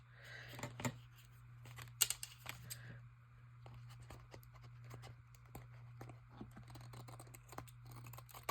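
Scissors snip through pastel paper scraps for a handmade card, giving a run of crisp, irregular clicks and cuts over a steady low hum, with a few louder snips near the start.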